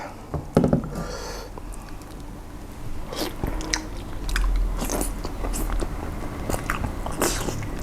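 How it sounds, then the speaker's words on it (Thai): Someone bites into and chews braised pork leg dipped in sauce, producing close, wet crunching and squishy chewing with sharp bite clicks scattered over a steady mouth-sound background. "ขาหมู จิ้มน้ำจิ้มอ่า"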